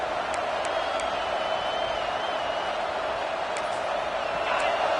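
Stadium crowd noise from a Madden football video game: a steady, dense roar of a large crowd holding at an even level throughout, with a few faint sharp accents poking through.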